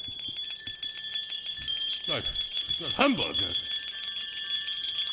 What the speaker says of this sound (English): he saw this bell begin to swing.